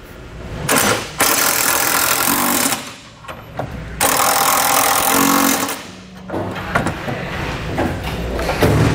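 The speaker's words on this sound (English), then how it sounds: "We'll then use a 15/16 socket and wrench to tighten these down." A 15/16 socket and wrench tighten the bolts on a hidden trailer hitch receiver, heard as loud, close bursts of rapid ratcheting or driving noise separated by short pauses.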